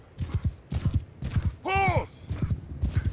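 Horses gallop in Mount & Blade II Bannerlord, with loud rhythmic hoofbeats pounding throughout and a horse neighing once midway, while battle chatter runs underneath.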